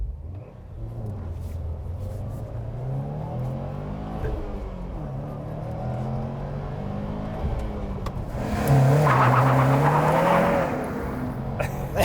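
A 2022 Subaru WRX STI with a turbo 2.5-liter boxer engine accelerates hard from a standstill without launch control on a snowy day, its loud engine note climbing through rising revs and surging louder near the end.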